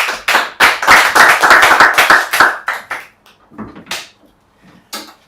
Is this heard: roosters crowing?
no